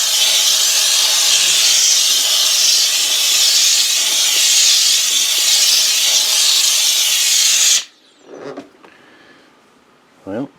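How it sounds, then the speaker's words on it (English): A Wagner steam cleaner blasts a loud, continuous hiss of steam for about eight seconds, then cuts off abruptly, leaving short faint handling noises and a brief later puff. "But it is steam."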